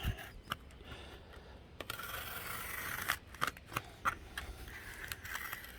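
An X-Acto knife slices through thick cardboard in two passes, giving close, sharp scraping strokes and a string of crisp clicks over a quiet background.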